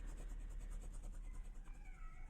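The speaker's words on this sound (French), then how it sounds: "je sais pas si vous entendez le chat miauler" A female cat in heat meows in drawn-out, wailing calls that rise and fall, clear and fairly close over a constant low background hum.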